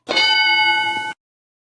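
A single bright metallic ding rings out with a clear sustained tone, then cuts off abruptly after about a second.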